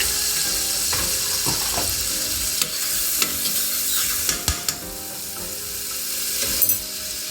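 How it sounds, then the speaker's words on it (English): Seasoning sautés in butter in a pot for Jamaican-style steamed fish, a soft steady sizzle broken by a few sharp scrapes and clinks of a spoon stirring against the pot. "I'm going to add some butter so we can saute up our seasoning"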